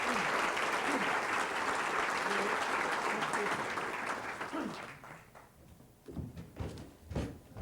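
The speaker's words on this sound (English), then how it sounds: "So they deserve a round of applause because they were a big part of this too." Audience applause at a commerce department presentation, loud dense clapping that fades out around the midpoint, followed by scattered thumps and shuffling noises near the end.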